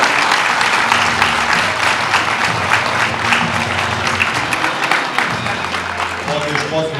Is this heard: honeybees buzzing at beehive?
no